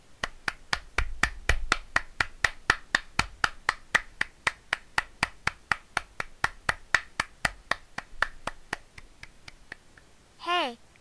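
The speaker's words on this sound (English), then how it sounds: "let's give the applause to these guys" Rhythmic clapping after a play in a homemade Thomas the Trackmaster show for a John F. Kennedy project, about thirty evenly spaced claps at a steady beat, ending with a short rising squeal.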